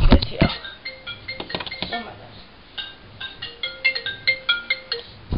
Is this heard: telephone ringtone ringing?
yes